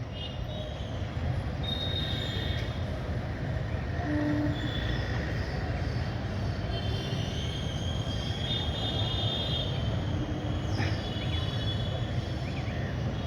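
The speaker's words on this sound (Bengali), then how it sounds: "এটা হচ্ছে লোকাল ট্রেন, এটা যাচ্ছে গড়িয়া স্টেশন" A local train bound for Garia station rolls past with a continuous heavy rumble and clatter, thin metallic wheel squeals rising over it at moments, steady and fairly loud throughout with no talk.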